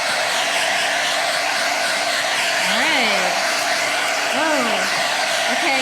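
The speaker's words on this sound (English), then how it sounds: "Now you can even take the hairdryer." Hair dryer blows continuously at close range while gold leaf is being applied, a steady loud roaring hiss, with a voice briefly speaking over it in rising tones.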